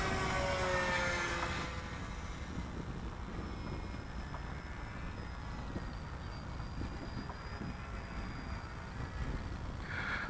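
Grand Cruiser RC model airplane flying at max throttle, a steady distant propeller drone fading slightly after the opening seconds, mixed with wind noise, no talk.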